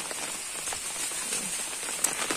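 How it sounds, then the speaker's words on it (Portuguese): Steady rain falls in the Brazilian sertão, a soft continuous patter of drops on surfaces with a few slightly sharper taps, heard alone at a moderate, even level. "E a chuva por aqui continua."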